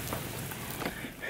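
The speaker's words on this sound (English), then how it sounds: "It looks like a rainy day, let's check it out." Rain falls outside on a dreary, nasty-looking day, a dense steady patter of drops hitting surfaces, fairly loud and continuous with no voices.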